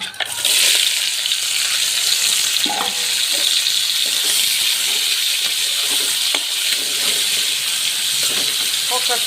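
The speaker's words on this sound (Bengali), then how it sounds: "এখন কাঁকড়া ভাজা দিয়ে দিন" Crab frying in hot oil in a wok makes a loud, steady sizzle and hiss that runs the whole time, with occasional stirring clatter and no talk over it.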